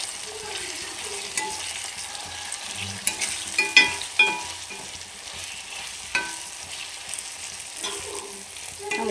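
Chicken cooked with whole spices like cinnamon and cardamom is stirred in a pot, giving a steady low sizzle with scraping spoon clinks and a few sharper knocks midway, with no talking.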